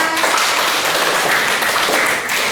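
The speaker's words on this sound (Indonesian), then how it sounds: "Ya, tepuk tangan untuk kita semua." Classroom applause fills the room during an Islamic religious education lesson, a steady dense wash of many students clapping at once, loud and unbroken for the whole stretch with no voices over it.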